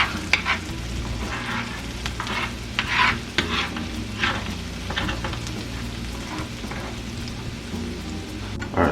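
A spoon scrapes and pushes food around a hot frying pan for honey garlic salmon, with repeated stirring strokes over a continuous sizzle and no talking.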